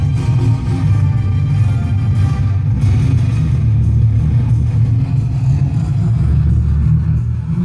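Heavy, continuous bass from a car subwoofer and speakers in a newly built subwoofer box, a loud, booming low-end throb filling a vehicle interior with a steady muffled rumble and no voices.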